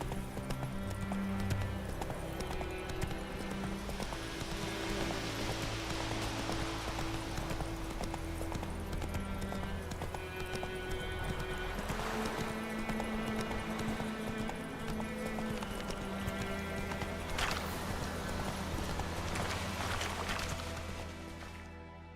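Roach the horse gallops in The Witcher 3 video game, a steady rapid clip-clop of hooves running continuously and close over a game music bed, fading near the end.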